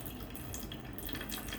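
Water drains out of a Vasudev cup in a steady, soft trickling stream that continues evenly for a brief moment.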